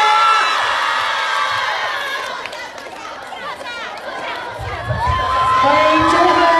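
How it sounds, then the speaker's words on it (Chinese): A cinema audience at a film promotional roadshow at a Wanda theatre in Nanjing cheers, whoops and shouts in a loud, continuous wash of crowd noise, with voices talking through it. "掌声欢迎"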